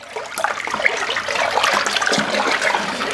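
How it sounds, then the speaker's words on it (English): Water gushes into a home-brewing bucket holding stirred malt, a loud, continuous rushing pour with splashing that holds steady for about three seconds, close up and without speech. "then I'm going to top up with more water"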